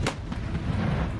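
An artillery cannon fires in Russia-Ukraine war footage, one sharp, loud boom at the start followed by a rumbling, echoing tail and lower distant thumps.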